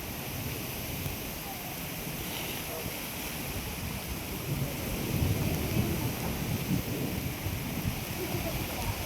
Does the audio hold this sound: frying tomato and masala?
no